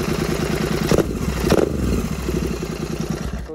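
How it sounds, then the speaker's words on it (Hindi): Royal Enfield Continental GT 650 twin-cylinder motorcycle with a modified aftermarket exhaust idling in a residential society, a steady low throbbing burble with two brief blips of throttle, close and loud. "मैंने तो एग्जॉस्ट लगा रखा है, तो आवाज़ भी सुना देता हूँ आपको एक बार"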